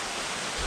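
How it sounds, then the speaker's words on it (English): A creek runs through a cave, giving a steady, close wash of rushing water with no break or other sound. "See, there's a cool creek."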